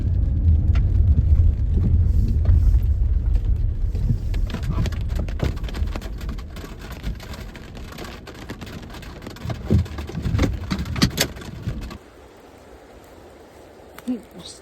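Steady rain patters down alongside a rumbling engine and wind, then the noise drops off sharply near the end, leaving quieter drizzle.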